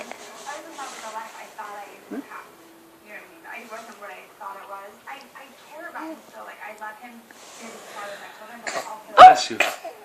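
A baby sneezes sharply near the end, a short loud burst after a stretch of soft adult talk and cooing around the infant.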